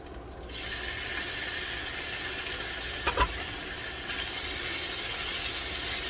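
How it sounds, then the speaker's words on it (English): Frozen okra fries in a generous amount of oil, a steady broadband sizzle and crackle that swells after a moment, with a couple of brief utensil clicks in the middle. "You need a lot of oil for this because you need to fry the okra"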